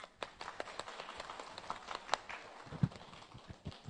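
Faint, rapid clapping from a few hands, quick uneven claps in a quiet room during a feng shui lecture.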